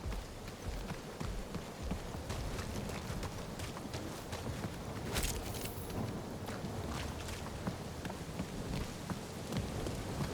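Rain and thunder in the video game Marvel's Guardians of the Galaxy: steady heavy rainfall with rumbling thunder and a sharp crack partway through, filling the scene without talk.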